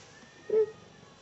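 A Persian cat gives a single short, soft meow rising out of quiet background hiss.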